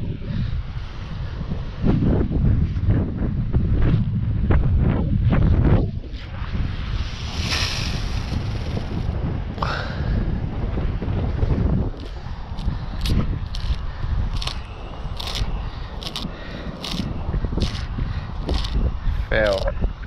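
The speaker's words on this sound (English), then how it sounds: "Casting into the wind now," Strong wind blowing across the microphone on an ocean shoreline while a heavy-action ulua surf fishing pole with a conventional reel is cast, a steady loud rush with surf behind it and someone talking over it.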